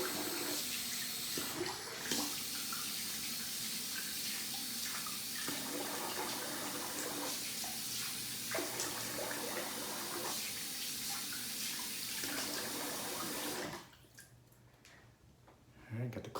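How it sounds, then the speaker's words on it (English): Steady cold water running from a tap in a barbershop flows continuously at close range, with intermittent talking over it before it cuts off near the end. "got the cold water on."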